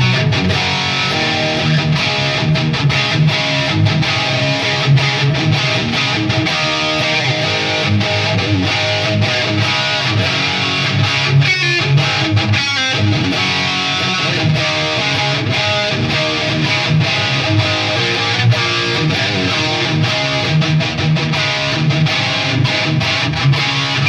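An electric guitar through a prism boost effect on a Line6 HX Stomp plays loud, boosted, slightly gritty notes and chords continuously, with no voice over it.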